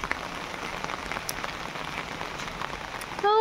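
Continuous rain pattering steadily on a surface, close and even, with no voices.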